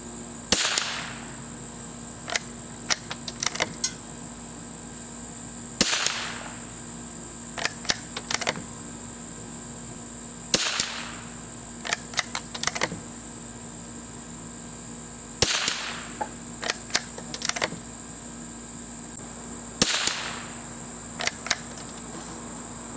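A Winchester Model 52 .22 rifle fires a five-shot group: five sharp, evenly spaced cracks roughly five seconds apart, with softer mechanical clicks of the bolt between shots.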